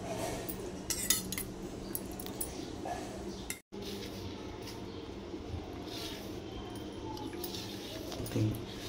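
A spoon mixing a mithai mixture with cooled boiled milk in a bowl, faint intermittent clinks and scraping against a low background hum, briefly cut out partway through.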